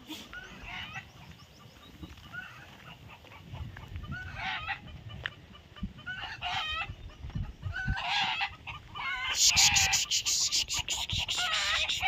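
Chickens cluck throughout and a rooster crows, the calls growing louder and busier toward the end, with a bird's shrill cries overlapping near the close; no one speaks.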